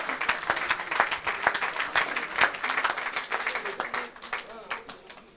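A worship crowd at an evangelistic meeting in Gabon bursts into dense, loud applause and cheering for Jesus, rapid claps overlapping in a steady roar that thins toward the end, with voices calling out throughout.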